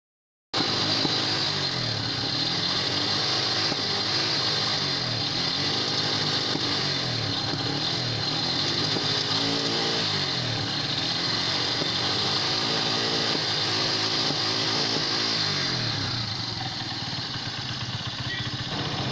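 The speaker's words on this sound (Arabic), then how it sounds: "طبعا اكيد لاحظت معانا التقطيع اللي موجوده في الماتور، الماتور بيقطع معانا على الصلانسيه" A motorcycle engine runs continuously at close range, idling roughly with faint uneven stutters in its rhythm as it sputters when revved.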